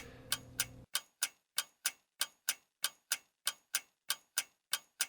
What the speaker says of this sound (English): I peek out at my alarm clock.